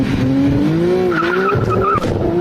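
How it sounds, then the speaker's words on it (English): A car with an RB26 engine with six individual throttle bodies launches, revving hard and rising in pitch as it accelerates, loud and close, with tire squeal mixed into the roar. "this is how a RB26 sound like"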